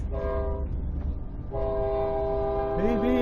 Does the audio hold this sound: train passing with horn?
yes